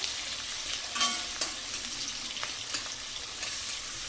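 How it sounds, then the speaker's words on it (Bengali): Onion, green chili and garlic fry in oil after cumin, making a soft, steady sizzle with a few light stirring clicks and scrapes, heard alone without any voices. "এবার জিরের পরে দিয়ে দিচ্ছি পেঁয়াজ, লঙ্কা আর রসুন। এটা একটু ফ্রাই হয়ে যাবে"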